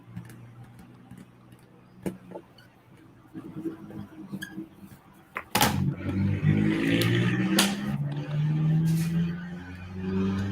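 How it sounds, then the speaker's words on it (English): A car engine outside revs up and holds a loud, rising drone, cutting in sharply after scattered indoor clicks and taps, then sustaining through to the end. "Damn, somebody is speeding. Rev it"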